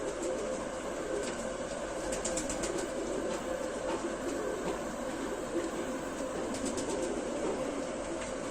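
Old Sialkoti pigeons in a loft, with soft fluttering wing flaps and rustling against a steady, fairly faint background hum, no talking.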